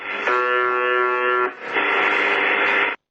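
The UVB-76 shortwave buzzer station tone: a steady, harsh electronic buzzing drones loudly, breaks off briefly near the middle, then resumes with a rougher, noisier texture before cutting out abruptly.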